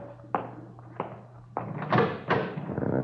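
A door being opened indoors in a warm room: a few soft knocks and thumps from the latch and handle, then a louder rattling swing, heard close and fairly quiet over a low steady hum.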